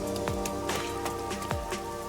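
Rain falling in the video game Master Detective Archives: Rain Code, a steady soft patter under game music and sound effects, with no speech.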